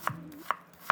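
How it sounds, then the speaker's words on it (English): A knife finely dices a white onion on a cutting board, three crisp, close chopping taps spaced evenly and isolated against quiet. "next we're gonna finely dice an entire white onion"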